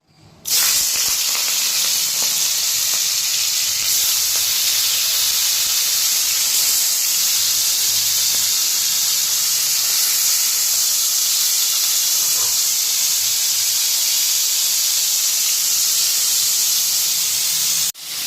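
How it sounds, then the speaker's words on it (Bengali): Small puti fish frying in oil produce a loud, continuous close-up hiss and spatter that holds steady for a long stretch. "এখানে এই মাছগুলো এখন সব ভেজে নেবো"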